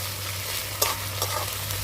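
Bay leaf, chopped onion, ginger paste and chopped tomato frying in oil in a wok: a soft continuous sizzle with a couple of brief stirring scrapes over a low steady hum, fairly quiet and close.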